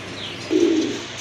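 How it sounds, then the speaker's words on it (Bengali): A large-sized Indian Lotan pigeon gives a single short, low coo, close and clear against a quiet background. "আরেক জোড়া কবুতর খুবই চমৎকার দেখার মতো বিগ সাইজের এক জোড়া কবুতর"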